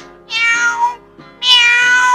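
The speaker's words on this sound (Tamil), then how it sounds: "meow meow பூனையார்" A cat gives two clear, loud meows close by, the second longer and rising, with a short pause between them and no talking.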